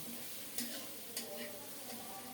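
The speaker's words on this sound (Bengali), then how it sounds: "এখন নেড়ে চেড়ে সব কিছু একসাথে কিছুক্ষণ কষিয়ে নিচ্ছি" Dried loitta fish with tomato, turmeric and chilli powder being stirred and fried in a pan over lowered heat, a steady soft sizzle broken by two brief scraping clinks, close and alone without talk.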